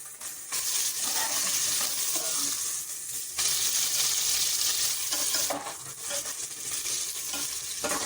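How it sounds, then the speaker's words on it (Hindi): Onions frying in hot oil, a loud continuous sizzle with stirring scrapes and bursts of spatter that swell and fade over several seconds. "तो पहले हम प्याज डालेंगे।"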